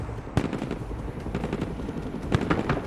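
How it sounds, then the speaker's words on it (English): Rapid gunfire in the modern warfare strategy game Broken Arrow, with a few sharp nearby cracks standing out over a continuous rumbling battle din. "We're under fire"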